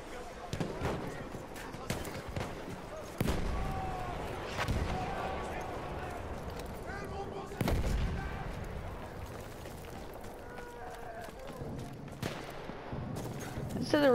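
Arisaka rifle shots ring out in Battlefield 1, sharp single cracks spaced a few seconds apart over distant battle noise, with a player talking between the shots.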